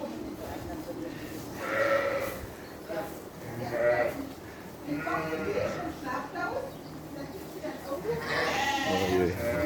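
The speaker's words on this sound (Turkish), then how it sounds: "Bak burada bir sürü koyun yavrusu var." Several sheep and lambs bleat at intervals, some high and wavering, close by amid farmyard background noise.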